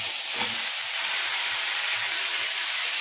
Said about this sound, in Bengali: এরপর আমি কোরানো গাজরটা এই ঘিয়ের মধ্যে ঢেলে দেবো